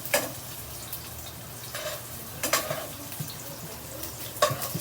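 Onion sizzles quietly in a pan for an enchilada sauce while a utensil stirs it, with soft intermittent scrapes and taps against the pan over a low, steady frying hiss.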